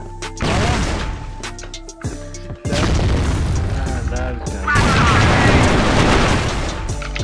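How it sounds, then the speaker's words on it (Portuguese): A grenade explodes in a first-person shooter match, a heavy boom with crashing debris amid game noise and gunfire bursts, a second loud blast near the end; excited voices talk over it. "Granada!"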